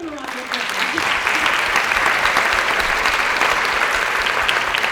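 A school spring choir concert audience breaks into applause, building quickly into a full, sustained wash of many hands clapping in the hall after a brief moment of quieter sound at the start.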